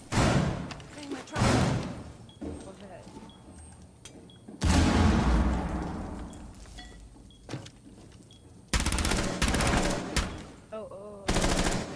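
Gunfire in Rainbow Six Siege, heavy automatic bursts ringing out in several loud stretches with quieter game noise between, close and dominant.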